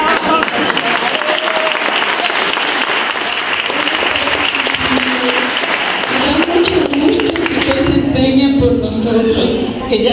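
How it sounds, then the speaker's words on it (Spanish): Loud, sustained applause from an audience at a September 11 community event, with a voice talking over it toward the end. "Vamos a darle un fuerte aplauso."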